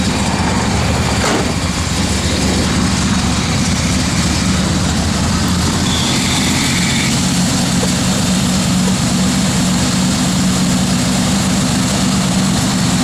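A 1968 Chevrolet Camaro SS big block V8 runs at a steady, loud idle, a constant deep rumbling drone heard up close with no talking.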